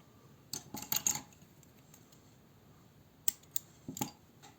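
Scissors snipping yarn during crochet of colored daisy flowers, a few quiet, sharp metallic clicks and snips in two brief clusters, near and otherwise faint.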